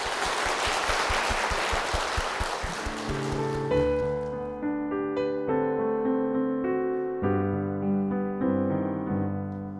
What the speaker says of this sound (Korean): 두 분께 축복의 박수 부탁드리겠습니다